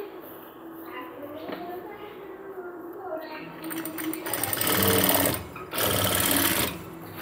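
A sewing machine stitches elastic into the waistband of cargo half pants, its motor rising into fast, loud runs of stitching in two bursts after quieter handling, with a person talking throughout.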